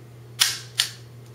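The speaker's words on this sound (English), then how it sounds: "you pull the trigger back, it rotates the cylinder, shortens the" Crosman 3357 revolver trigger pulled back to rotate the cylinder, giving two sharp close mechanical clicks about half a second apart, followed by a faint third tick.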